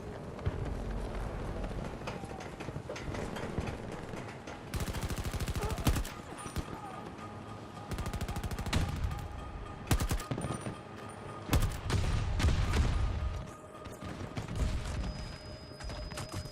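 Rapid bursts of video-game gunfire while shooting enemies in a beta test, loud and repeated in clusters with galloping hoofbeats mixed in and some talk in between.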